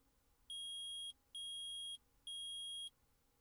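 Electronic beeping from the Phoenix Wright: Ace Attorney video game: three loud, steady high-pitched tones of about half a second each, evenly spaced with short gaps, over a faint background hum.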